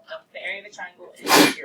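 A single loud, sharp sneeze bursts out close by right after a person finishes speaking.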